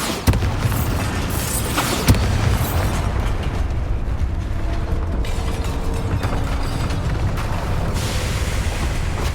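The Bombarda blasting spell in Hogwarts Legacy goes off in combat: sharp explosive booms and bursts over a rumbling game soundscape, with a few distinct hits early on.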